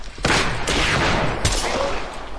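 Loud bursts of rapid gunfire in the video game Apex Legends crackle close by in a dense, continuous volley, with a few sharper shots standing out.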